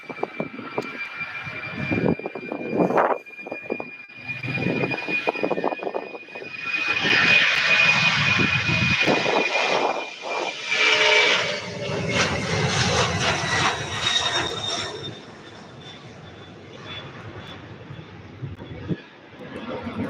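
An airliner taking off at Louisville (SDF) airport on a hazy day, its jet engines swelling into a loud roar with a high whine, then fading away into the distance.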